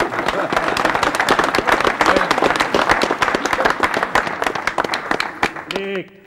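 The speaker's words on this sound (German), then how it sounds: "Der Nagel sitzt. Beifall." Onlookers applaud with dense, sustained clapping that fills the scene at close range, mixed with crowd noise, before trailing off into a brief tonal sound at the end.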